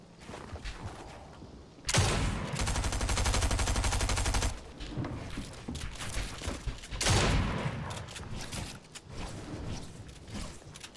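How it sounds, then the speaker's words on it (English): Gunfire in the Fortnite video game, with two long, loud bursts of rapid shots separated by quieter stretches of game noise. "He did not expect that shotgun to hit so hard, huh?"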